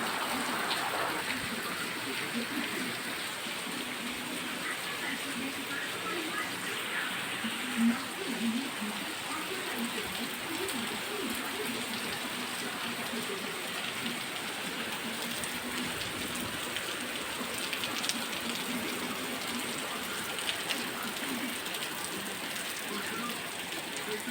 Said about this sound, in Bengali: তো বৃষ্টি হচ্ছে এখন।